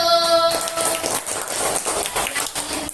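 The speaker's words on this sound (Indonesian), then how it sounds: "Coba tepuk tangan untuk kelompok 1." Classmates clap for the first student group during a classroom lesson. A short tonal sound comes first, then a dense, lively round of many hands clapping close together that fills the rest.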